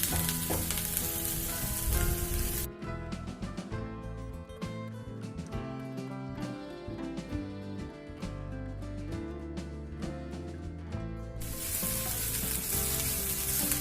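Shredded cabbage with salt and turmeric sizzles and crackles in a hot pan for Kerala cabbage thoran, a steady loud frying hiss with scraping stirring strokes, the sizzle briefly dropping back before surging again.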